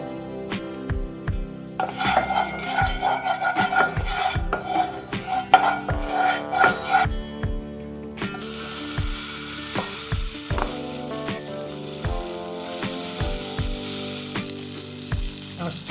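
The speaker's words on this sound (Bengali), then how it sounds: "এগুলোকে খুব বড়ও নয় খুব ছোটও নয় মাঝারি করে করে ভাজবো গ্যাসে আমি কড়া বসিয়েছি আমি সামান্য তেল ছড়িয়ে দেবো" Vegetable pancakes fry in a little oil in a kadai over a gas flame, giving a steady sizzle and crackle under rhythmic background music, with the hiss growing brighter and fuller in the second half.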